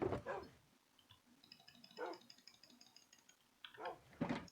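Dogs bark inside a Minecraft server's farm, a few separate barks and yips spaced across the moment, moderately close, with a faint electronic ticking texture in between and no talking.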